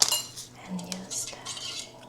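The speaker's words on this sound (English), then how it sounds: "gently whisk it until it blends." Whisking warm milk with brown sugar and yeast in a pan, for spice bread: close, soft metallic clinks and scrapes of a whisk against the pan, repeated in an uneven stirring rhythm with no talking.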